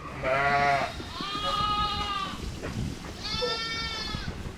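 Several lambs bleat in a barn crowded with newborn lambs, three loud, wavering calls in quick succession, near and distinct over a low rustling barn background.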